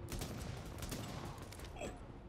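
Rapid pistol gunfire in the video game Tom Clancy's The Division, a quick burst of several sharp cracks, fairly faint and alone.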